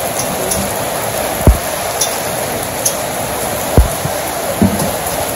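Steady rain pours down outside a village kitchen with a clay stove, a constant soft hiss broken by a few louder, sharper drops and knocks.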